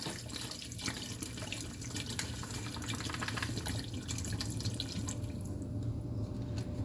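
Bottled water pours steadily into a pot for pork stew, a continuous splashing, trickling flow that stays close and fairly even for about seven seconds, with no talking over it.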